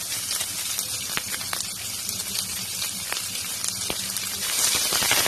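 Finely chopped large onion frying in hot oil with mustard seeds and curry leaves for snake gourd poriyal, a steady close sizzle with small crackles and pops throughout.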